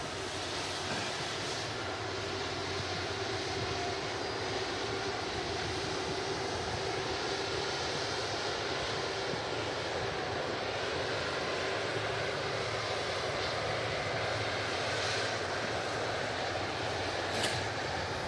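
A Virgin Atlantic Airbus A380 taxis past at Manchester Airport, its engines producing a continuous, fairly close rumbling whine with a steady drone, unbroken and free of speech for the full stretch.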